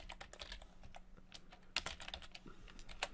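Rapid typing on a computer keyboard while writing code, quick irregular key clicks with occasional harder strikes, close but fairly quiet, no talking.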